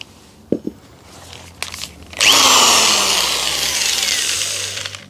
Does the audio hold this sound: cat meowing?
no